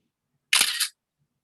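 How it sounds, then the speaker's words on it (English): A single crisp camera shutter click fires while a thumbnail photo is snapped, one short close burst in an otherwise silent moment. "I even got the shutter sound, man."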